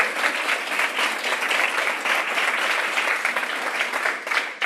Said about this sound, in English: give a loud round of applause to Stina Miller